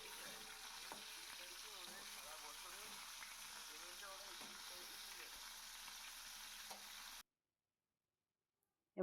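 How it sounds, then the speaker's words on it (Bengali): Hilsa fish heads fry in a pan of hot oil, a dense continuous sizzle close by that runs for about seven seconds and then cuts to silence. "আমি এই রকম করে দুটো ইলিশ মাছের মুড়োই ভেজে নিচ্ছি।"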